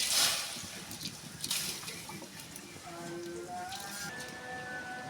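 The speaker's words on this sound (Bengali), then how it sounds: "এবারে গরম জলে দিয়ে দেবো।" Soaked khesari lentils tipped into hot water in a home kitchen, opening with a few close splashes and pouring sounds, then settling into a light trickle while the water's pitch rises.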